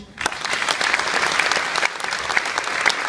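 An audience at a religious celebration program claps in steady, dense applause, loud and close, starting abruptly and continuing throughout.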